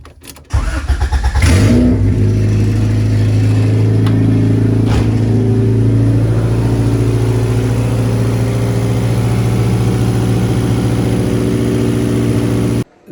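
Race car engine with a freshly fixed MAP sensor O-ring fires up after a brief start and settles into a loud, steady idle with a smooth low rumble, a couple of small blips in throttle, then cuts off at the end.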